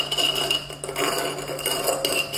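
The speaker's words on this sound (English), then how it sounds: "So by adding a bit of water and stirring, I can dissolve the copper sulfate." Metal spoon stirring copper sulfate and water in a glass container, giving quick repeated scraping and clinking taps against the glass for a couple of seconds, close and clear.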